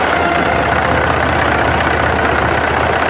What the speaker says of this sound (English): When that's been done, the tractors take charge.